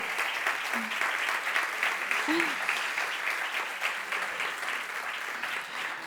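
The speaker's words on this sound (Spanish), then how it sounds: "Y así te aplauden 2 veces" Studio audience applause on a Spanish talk show, a dense steady wash of many hands clapping at full strength throughout, without speech over it.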